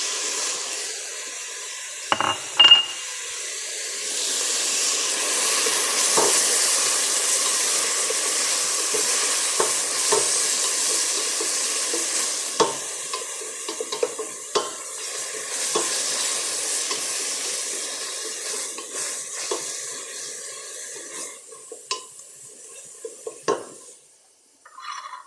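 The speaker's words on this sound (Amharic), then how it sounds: "የሆነ ነጭ ሽንኩርቱን ጨምሬ ትንሽ አምሽዋለሁ ነጭ ሽንኩርቱ ጋራ ከዛ ቲማቲም ነው የምጨምረው" Garlic and tomato frying in a pot as the base for a meat soup, a steady close sizzle with scattered stirring scrapes and utensil clicks throughout, no voices.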